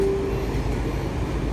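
Inside a Washington Metro 7000 series Red Line train, a dense low rumble of wheels and motors fills the car, loud and steady, with a brief tonal whine at the start.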